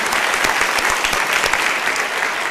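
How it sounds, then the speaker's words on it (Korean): A church congregation claps warmly to welcome visitors, a thick, even wash of many hands that is loud and continuous from start to end. "우리 교회 가족들 뜨거운 환영의 박수 보내드리면 좋겠습니다."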